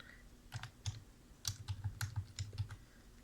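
A password is tapped out on a computer keyboard in a quiet room, a quick irregular run of close, light key clicks with brief pauses between bursts.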